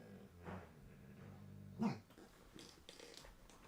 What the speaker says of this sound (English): because the little dogs are barking back there